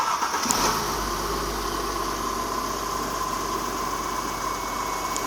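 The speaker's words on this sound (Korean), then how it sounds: "과장님, 시동 한 번만 걸어주세요" A Mercedes-Benz W212 E300 engine, just fitted with new spark plugs and fresh oil, cranks briefly and catches, then settles into a steady, smooth idle with an even mechanical hum and a faint whine.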